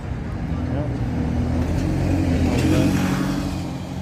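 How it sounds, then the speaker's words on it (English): Road traffic passes along a town street, a steady rumble of cars and vehicles with engine swells that rise and fall throughout, heard from nearby at moderate loudness. "There's a lot of vehicles passing over."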